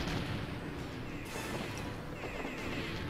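Dense, continuous rapid gunfire from a weapon in the video game MDK, firing at enemies near a giant submarine, loud and crackling throughout with crashing impacts.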